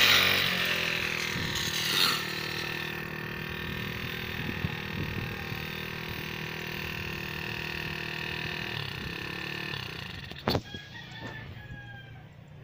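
Grass cutter clearing vegetation on a rubber plant farm, a continuous droning motor running steadily at close range, with a sharp clatter near the end as it cuts down.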